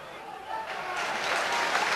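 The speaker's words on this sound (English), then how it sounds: "Earns applause from the Argyle fans." Plymouth Argyle supporters applaud at a 1997/98 football match against Wycombe Wanderers, a distant stadium clapping that rises partway through beneath a commentator's continuing voice.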